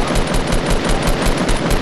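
Dense, rapid automatic gunfire from a video game, a continuous loud burst of shots with no pause across the whole stretch.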